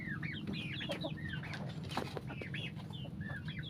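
Pet chickens cluck and chatter in a busy overlapping chorus, steady and fairly close, with a faint low rumble underneath.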